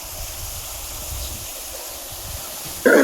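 Water from a motor pump gushing out of a farm well, a steady rushing flow heard close and continuous, with a brief louder splash or knock at the very end.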